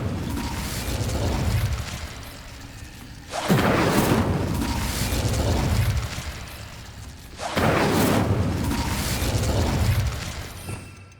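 Two bursting fire-spell blasts from the Incendio charm in the game Hogwarts Legacy, each a loud whooshing flare that swells and then fades over a few seconds, spaced apart and standing alone.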